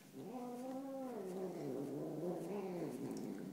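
A domestic cat caterwauls close by, drawn-out wavering yowls rising and falling in pitch, loud and alone without any talking.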